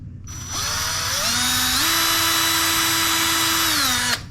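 Electric drill enlarging pickup screw holes in a Gibson SG guitar body, spinning up with a rising whine that settles into a steady loud drone for a few seconds, then winds down as the bit stops.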